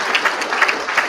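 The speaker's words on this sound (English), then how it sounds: "a round of applause" Audience applause at an academic conference on the afterlives of slavery, a short loud burst of many hands clapping at close range, with uneven peaks across just over a second.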